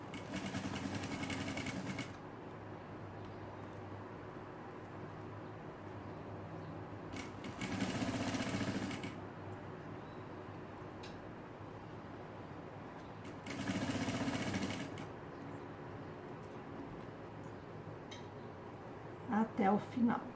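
Sewing machine stitching bias binding in three short bursts separated by pauses, while someone talks throughout.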